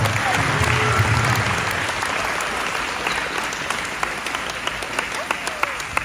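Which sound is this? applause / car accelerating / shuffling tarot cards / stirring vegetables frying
applause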